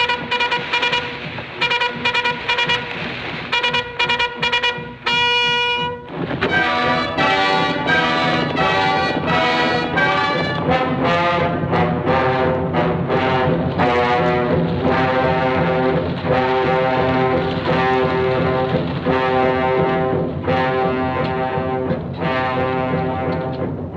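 A bugle sounds the gallop call, loud and sustained, repeating bright rising notes in a steady martial rhythm, with no voices over it.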